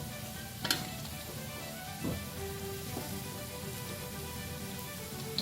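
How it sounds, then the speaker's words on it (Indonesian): Steady oil sizzle and crackle of tempeh frying, constant and close, with a few soft clinks of a utensil stirring in the pan. "Sekarang kita mulai menggoreng."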